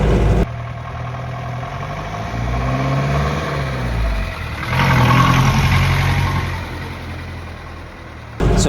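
Engine of a 1964 Ford Thames vintage van while driving, a steady mid-pitched drone that rises in pitch as it accelerates, eases, then surges again, loud and close throughout.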